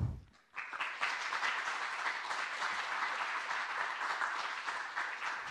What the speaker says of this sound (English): Please let us greet them with the applause they undoubtedly deserve